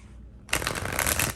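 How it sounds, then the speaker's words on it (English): Cards are handled from a tarot deck: a short quiet pause, then a sudden burst of crisp, close riffling and shuffling that runs to the end. "So now I'm going to get some cards from this deck."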